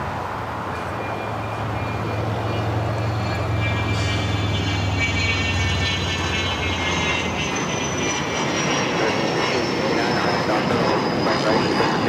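An airliner takes off from runway 25 right at LAX, its engines roaring loud and continuous, with a high whine slowly falling in pitch.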